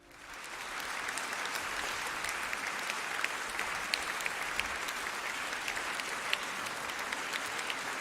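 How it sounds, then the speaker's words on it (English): Warm audience applause at a school debate quarter final, a steady wash of many hands clapping that swells in quickly and holds loud and even for several seconds. "I think you deserve a warm round of applause as well."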